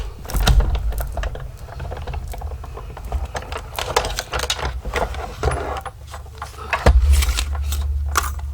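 A die cutting machine pressing through a die for papercraft: a continuous grinding, clicking mechanical rumble with light rattles and thumps, close and fairly loud, with no talking.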